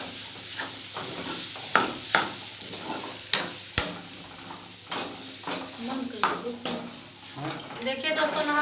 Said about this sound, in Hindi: जैसे कढ़ाई में हम लोग वो डाल दिए हैं, भून रहे हैं आलू